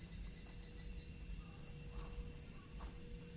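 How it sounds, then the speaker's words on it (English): Cicadas buzzing in trees on a calm day, a faint continuous high drone that fills the background alone, with no talk. "listen to the cicadas."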